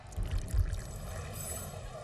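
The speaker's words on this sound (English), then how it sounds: "Pouring tea from the long pot has evolved into a beautiful art form of its own" Tea pouring in a steady stream from a long-spout pot during a traditional tea ceremony, a continuous close splashing trickle with a fuller, heavier onset.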